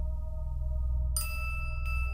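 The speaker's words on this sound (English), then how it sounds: "And then the bell rang." A bell strikes once with a bright metallic ring over a low, steady hum, then rings faintly again a moment later as the tone lingers.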